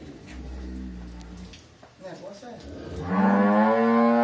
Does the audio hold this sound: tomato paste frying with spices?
no